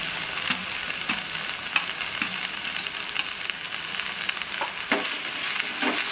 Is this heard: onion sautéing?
yes